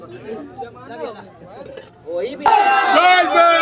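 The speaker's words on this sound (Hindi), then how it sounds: "लोगों का भीड़ इतना ज़्यादा हो चुका है।" A crowd gathers at a newly uncovered 500-year-old temple in Patna City, with close talking over a general hubbub that swells into louder, dense crowd babble partway through.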